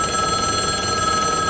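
A telephone bell rings loud and steady with a bright, sustained trill, sounding alone without any talking.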